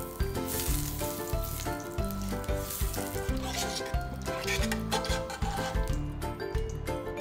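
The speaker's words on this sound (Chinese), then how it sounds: "先落两片姜落去开锅" Slices of ginger sizzle in a hot pan, a soft, steady frying hiss sitting beneath prominent background music.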